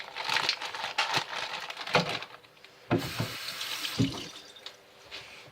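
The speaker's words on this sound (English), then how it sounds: "So step 2 was the add water to the bag" Water being poured into a plastic wine-making bag, sloshing and splashing in irregular bursts with crinkling of the bag, fairly close and moderately loud, no talk.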